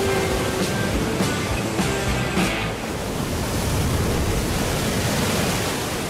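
Ocean waves surge into a crater-like hollow in the coastal rock, a loud continuous roar of rushing, crashing water with a few sharper bursts early on, steady and enveloping throughout, no voices.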